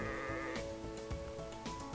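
Sheep bleat in the video game WorldBox, several short repeated bleats over a steady game soundtrack.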